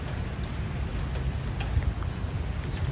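Steady rain pours down on a mall renovation site on Christmas Eve, a dense continuous hiss with a low rumble underneath and occasional faint drips, no voices.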